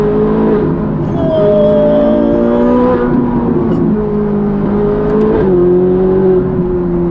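Ferrari engine revving hard while the car accelerates along a road, a loud sustained roar rising and falling in pitch through gear changes, heard close with no talk.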